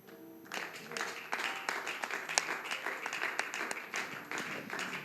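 Church congregation clapping and cheering to welcome new believers at a French-language gospel service, a steady wash of dense applause and crowd voices sustained throughout.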